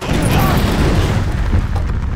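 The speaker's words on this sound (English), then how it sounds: "I just set that desk on fire!" A desk catches fire in the prison game Hard Time 3, giving a loud, dense, continuous roaring whoosh that stays steady for the whole moment.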